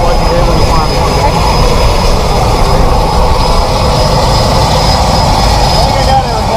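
The engine of a skydiving plane drones loud and steady inside the cabin, a constant roar throughout.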